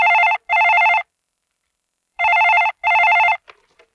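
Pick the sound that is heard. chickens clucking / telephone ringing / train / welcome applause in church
telephone ringing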